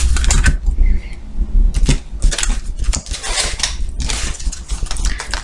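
A deck of tarot cards is cut and shuffled in a series of close, crisp papery riffles and snaps that arrive in irregular bursts.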